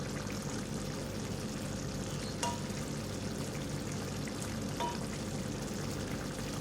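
Minced meat and tomatoes fry in a pan for Shinwari qeema, with a steady, dense sizzle running throughout and two brief soft clicks partway through.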